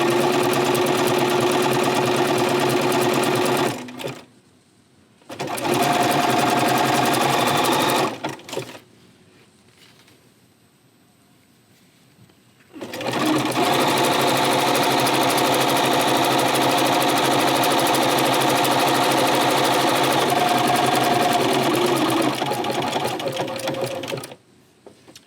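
Sewing machine stitching fabric pieces for a pieced flower quilt block around a curve, steady fast rattling runs in three bursts with short pauses between for pivoting, close and loud with no talking.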